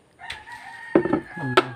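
A rooster on a backyard farm crows close by, a loud drawn-out call with a sharp final rise, over faint background clucking.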